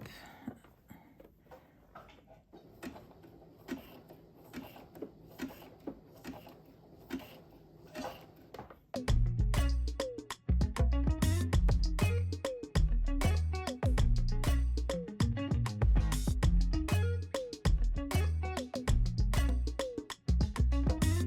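A home sewing machine runs a zigzag stitch in orange thread across fabric, starting at a slow, gentle pace with soft ticks, then switching to loud, fast, steady stitching from about nine seconds to the end.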